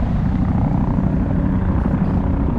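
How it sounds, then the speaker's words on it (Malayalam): A helicopter passes overhead near the Khor Fakkan mountains, a loud, dense rotor drone that holds steady for the whole short stretch. "ഇതെന്ത് ഹെലികോപ്റ്ററാന്നൊന്നും അറിയില്ല കേട്ടോ"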